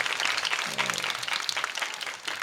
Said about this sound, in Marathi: एकदा महाराजांसाठी आणि महाराजांच्या संस्थेसाठी जोरदार टाळ्या वाजवणार